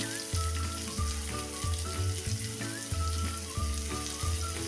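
Chopped onions and garlic sauté in oil in a pan, giving a steady, fairly quiet sizzle over a rhythmic, pulsing low background drone with thin tonal whistles.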